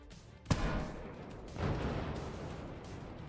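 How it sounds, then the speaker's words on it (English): A frag cannon in a video game fires a sharp, booming blast followed a second later by a second heavy burst, each trailing into a rumbling, noisy roar like distant artillery. "You see another volley with the frag cannon."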